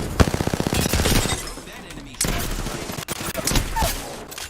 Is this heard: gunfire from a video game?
yes